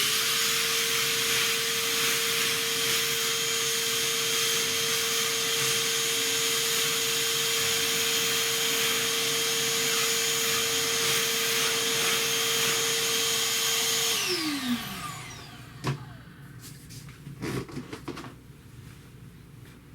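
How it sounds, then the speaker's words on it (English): A vacuum cleaner sucking up dust runs steadily with a loud whining roar for several seconds, then powers down, leaving scattered knocks and clatter. "I'm just going to vacuum up some of this dust because it's floating like crazy."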